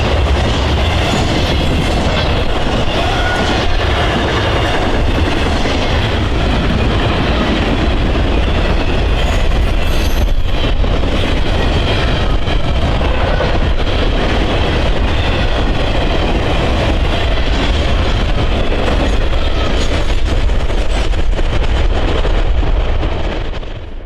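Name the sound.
Norfolk Southern 21M freight train led by SD70M locomotive passing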